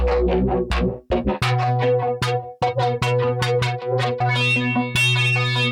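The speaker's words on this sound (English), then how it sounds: "all that distortion is actually going through that EQ and kind of creating that amp sound" Distorted electric guitar with chugging palm-muted notes and chords, heavily processed through effects, rhythmic and loud, ending in a brighter, noisier swell.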